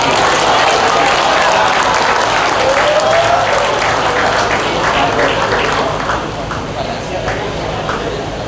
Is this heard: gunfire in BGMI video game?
no